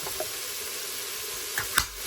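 Ground meat and onions browning in a pot for chili, a soft steady sizzle with a couple of light utensil clicks near the end, faint and without voices.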